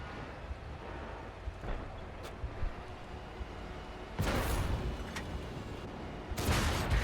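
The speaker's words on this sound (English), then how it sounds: "I'm going to shoot that little hatch." A tank gun in the T34 video game fires at an enemy hatch: two loud, booming shots several seconds apart, each followed by a lingering roar, set against steady engine rumble.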